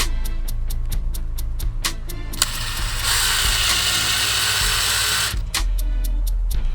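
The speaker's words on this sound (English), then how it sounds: "not the wire, but screw in the front first" A ratchet driving screws into an amplifier rack in a 2019 Ford Flex SEL, with rapid, loud, even clicking that breaks into a continuous whirring spin midway and then returns to clicking, close up with no talk.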